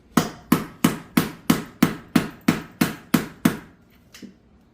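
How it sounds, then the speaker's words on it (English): Ten sharp, evenly spaced blows from a rubber mallet on metal parts of a 2003 Cobra engine, loud and close, followed by a couple of fainter taps. "use a rubber mallet"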